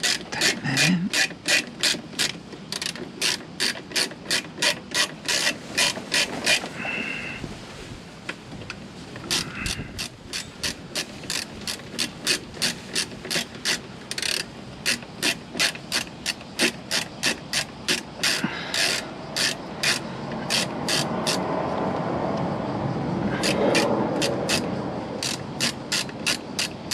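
A ratchet tightens a bolt on the rear brake of a Honda NC700X motorcycle, with rapid runs of crisp, evenly spaced clicks broken by brief pauses between strokes.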